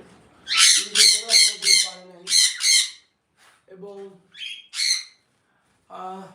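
Pet sun conures and cockatiels at a bird farm in Bangladesh give loud, close, harsh squawks in rapid bursts, first a quick run of four, then a pair, followed by scattered calls with short silences between.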